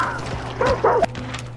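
Dog in a video game giving a couple of short, yelping barks and whimpers close by over a low steady hum, loud and brief.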